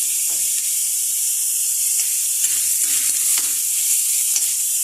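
Mixed vegetables with shrimp sauté in a hot pan with a steady, bright sizzle and hiss, broken by occasional soft stirring scrapes, close and continuous with no talk.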